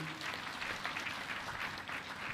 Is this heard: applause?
yes